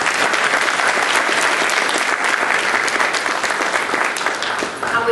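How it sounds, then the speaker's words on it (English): Sustained, even applause from an audience at a college humanities teacher-of-the-year lecture honoring the award recipient, close and continuous without pause. "Let's give another big round of applause"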